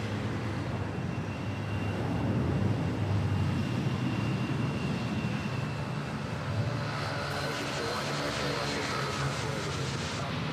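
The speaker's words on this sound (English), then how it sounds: "Nice smooth takeoff." An airliner taking off from Manila airport, a continuous loud engine rumble and roar, close at first and then gradually easing, with no voices.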